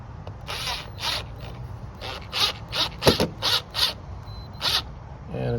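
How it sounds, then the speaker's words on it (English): A screw is driven by hand into the mounting hole of a 4 station Orbit timer, with a series of close, short creaking and ratcheting turns in uneven rhythm. "Then I'll put my screw in."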